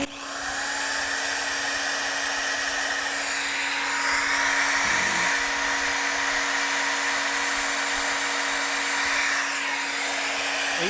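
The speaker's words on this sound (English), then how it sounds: "I'm gonna turn the grinder on," An electric grinder or polisher runs off a BLUETTI Elite 200 portable power station during classic truck repair. It makes a loud, steady, close whine that holds unbroken throughout, with no talking.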